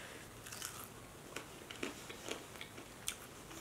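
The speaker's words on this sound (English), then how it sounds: "let's try out the momos" Someone bites and chews momos with dip sauce, making soft, close, irregular crunches and wet chewing over quiet background hiss.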